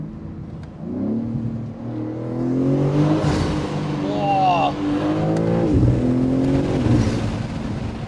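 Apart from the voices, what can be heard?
Manhart MH3 650 BMW M3 Touring accelerating, blow-off and whistle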